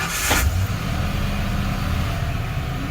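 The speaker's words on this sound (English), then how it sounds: "let's start the motor" A car with its check engine light on starts up with a short, sharp burst of noise, then settles into a steady, fairly loud low engine rumble that runs to the end.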